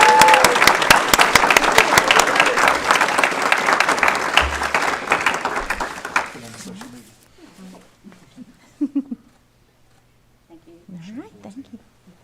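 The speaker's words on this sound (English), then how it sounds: "Please give her a round of applause" An audience at a county board of education meeting gives sustained applause that fades out after about six seconds. A few scattered voices follow in a quieter room.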